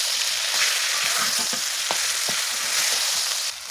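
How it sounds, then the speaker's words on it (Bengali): Mashed taro leaf bharta fries in oil with a dense, close sizzle, broken by quick scraping strokes and clicks of a spatula as it is stirred. "ভেজে নেবে, তেলগুলো উপরে উঠে আসা পর্যন্ত।"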